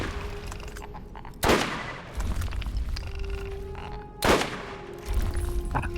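Two loud, sharp gunshots ring out in a shooting video game, spaced a few seconds apart, over constant game background noise and rumble.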